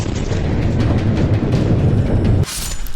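A deep, rumbling blast roars continuously for a couple of seconds, then cuts to a thinner, hissing tail as the boom fades.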